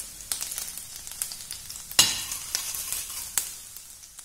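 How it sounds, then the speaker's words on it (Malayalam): Garlic frying in butter in a pan, before broccoli goes in for a keto roasted broccoli and tomato soup. A soft, steady sizzle carries throughout, broken by occasional sharp pops and utensil clicks, with no talk. "ഗാർലിക്ക് ബട്ടറിൽ കിടന്നൊന്ന് മൂത്ത് കഴിഞ്ഞ് നല്ലൊരു മണം വരും."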